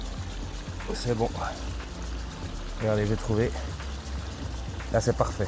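A forest stream flows with a steady, soft trickling and pouring of water along a hiking route in the Ardennes, while someone speaks over it.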